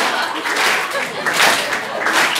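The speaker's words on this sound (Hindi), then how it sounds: "अब जो आपको ताली बजाने में मजा आएगा" An audience at a Hindi comedy poetry gathering (hasya kavi sammelan) claps in a dense, steady wave of applause that swells and eases across the moment, with a voice carrying over it.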